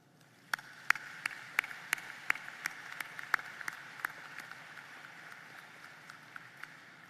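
Graduates applauding at a diploma ceremony come through as sparse, faint, evenly spaced claps, almost like one or two people clapping slowly, fading off toward the end with no voices.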